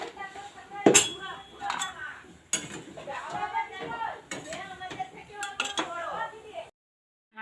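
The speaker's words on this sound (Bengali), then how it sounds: "ঢাকনাটা দিয়ে দিলাম" A lid goes onto a cooking pot of fish simmering with mustard paste and tamarind, a sharp metallic clink followed by a few lighter clatters of pots and utensils, with a person talking over most of it.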